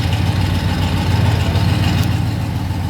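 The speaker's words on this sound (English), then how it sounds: "Got a rumble coming out of the 350." A 1972 Pontiac Le Mans with a 350 V8 idles close by, a steady, loud, low rumble with an even pulsing beat and no talk over it.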